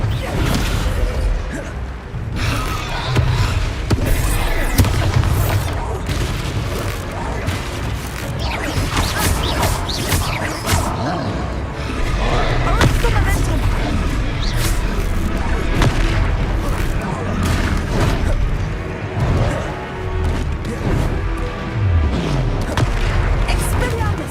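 Descendo spell impacts in Hogwarts Legacy combat: repeated heavy booms and crashing smashes running densely through the stretch, with music and character voices talking over the fighting.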